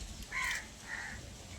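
Crows cawing outdoors on a farm, two short harsh caws, the first louder, heard faintly at a moderate distance.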